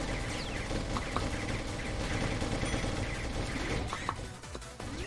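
Bomb blast in the shoot-'em-up Gundemonium Recollection, a dense, continuous barrage of crackling explosions and rapid gunfire-like bursts layered over game music, loud and sustained throughout.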